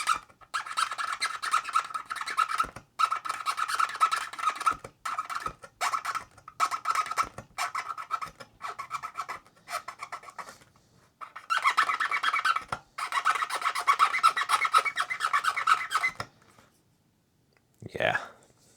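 A cotton swab dipped in isopropyl alcohol rubbed back and forth over the port contacts of a Commodore 64C, dry scratchy scrubbing in repeated bursts with short pauses, close and fairly loud.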